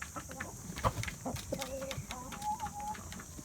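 Chickens cluck on a chicken farm, a few short clucks followed by a drawn-out crooning call, close and moderately loud over a low background hum.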